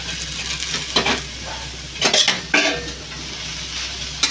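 Cabbage, broad beans, tomato and spinach sizzle steadily in a pan for fried rice, with a few louder scrapes and clinks of a spoon stirring against the metal.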